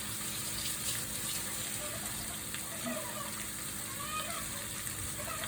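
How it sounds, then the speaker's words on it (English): Water runs steadily from a tap with a constant splashing hiss while hands are washed, faint scattered sounds of movement beneath it. "Wash my hands."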